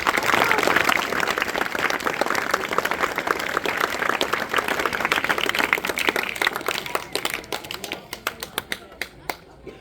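At a school awards ceremony, a crowd breaks into loud, dense applause that carries on for several seconds before thinning into a few scattered individual claps, with some voices mixed in.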